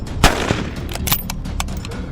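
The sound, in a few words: gunshots from rifle while hunting camels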